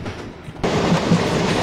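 A train passes Kajgaon station in the MSTS/Open Rails simulator, with a steady rumbling rail roll that swells abruptly partway through and carries faint wheel clatter, close and continuous.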